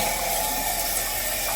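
Water running steadily from a hotel shower at the Four Points by Sheraton, a constant broadband hiss of spray heard alone and up close.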